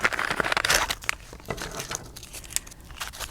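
Crinkling and tearing sounds of electrical tape being handled and pulled, in irregular bursts close to the microphone, with no talking.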